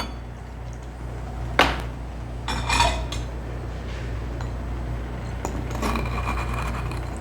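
Ingredients for an Old Fashioned, including Angostura bitters and club soda, are muddled in a glass with a few sharp knocks and clinks, then a stretch of softer grinding and tapping under a low steady hum.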